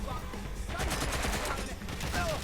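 Video game gunfire in Watch Dogs: Legion, a quick flurry of close automatic shots crackling through a short, busy stretch with other game sounds around it.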